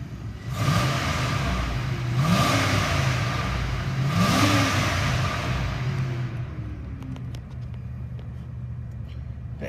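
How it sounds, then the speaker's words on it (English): A 1997 Dodge engine idles, then revs up in three rising pulls before settling back to a quieter idle and fading, the engine close and fairly loud with no one talking. "Let's go ahead and listen to the engine."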